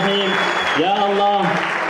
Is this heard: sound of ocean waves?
no